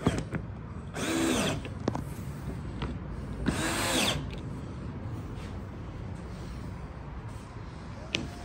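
A power tool tightens the bolts on the rails of a Valley pool table. It gives two short whirring bursts over a steady background hum.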